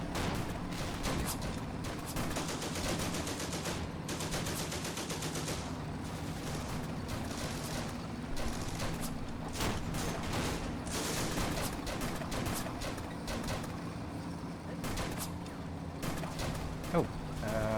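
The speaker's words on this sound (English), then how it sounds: "something is shooting at this carrier. Something that is theoretically capable of penetrating armor, but isn't very good at it. So, quite possibly an anti-tank rifle." An anti-tank rifle fires at a carrier amid a dense, continuous crackle of battlefield gunfire in the Combat Mission: Afrika Korps war game, with repeated sharp reports over a busy background and voices under it.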